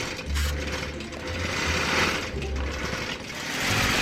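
A long arm quilting machine stitches through a Crown Royal quilt with a rapid, continuous mechanical whir and chatter, close and loud, its pitch wavering slightly as the stitching speed changes.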